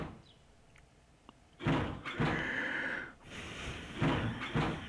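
Locked doors in the video game 999 being tried one after another, a series of loud rattling thunks and clunks in bursts after a quiet start, with no talk.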